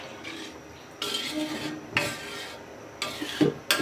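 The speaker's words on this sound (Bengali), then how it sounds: "এখন আমি নেড়ে ছেড়ে ঢাকনা দিয়ে ঢেকে দেব" A spoon stirs Ayer fish curry in a cooking pot, giving scraping, clattering strokes in short bursts separated by brief pauses, close and fairly loud.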